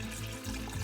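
Water poured into a cooking pot already holding tomato paste and wine for a simmering sauce, a steady close splash and gurgle that runs for under a second with no talking.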